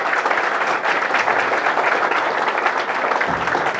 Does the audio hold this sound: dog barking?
no